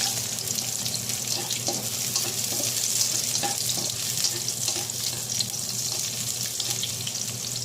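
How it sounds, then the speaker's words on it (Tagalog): Garlic and onion sauté in a pan, a continuous steady hiss like running water, close with no talk. "Gigisa tayo ng bawang, sibuyas,"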